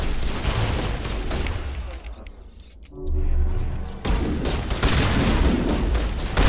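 Loud video-game gunfire with Cerberus snipers attacking. Bursts of shots and booms crackle in rapid succession, ease into a short lull, then open up again in heavy volleys.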